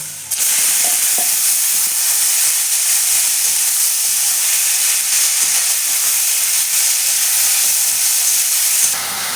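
Radish greens dropped into hot oil with fried garlic in a Bengali-style stir-fry, giving a steady loud sizzling hiss that starts abruptly and runs unbroken for about nine seconds before cutting off.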